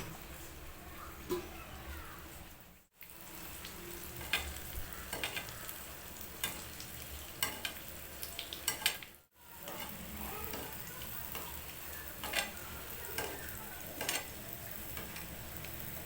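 Appam batter fries in hot oil with a continuous bubbling sizzle, oil being scooped and poured over it, scattered light clinks of a small ladle on the pan.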